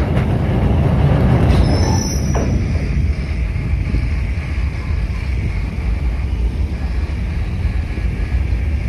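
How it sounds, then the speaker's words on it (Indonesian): Work train hauling two high-speed railway rails at once on the Jakarta–Bandung line, a loud steady rumble of rolling wagons with a brief metallic squeal near the start, continuing without pause. "dua batang rel sekaligus sudah mulai ditarik"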